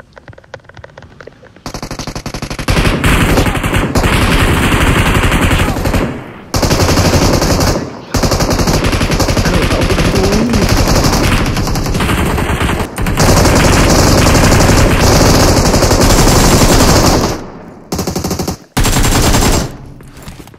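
Sustained machine gun fire from PUBG Mobile, loud and dense bursts running nearly continuously with a few brief gaps, near and dominant with no talk over it.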